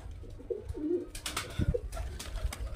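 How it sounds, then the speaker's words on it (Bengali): Pigeons coo in low, throaty bursts, a couple of separate calls close by from Madrasi high-flying pigeon pairs, with some rustling and shuffling around them. "এই যে এখানে একটা ম্যাড্রাজের পেয়ার আছে"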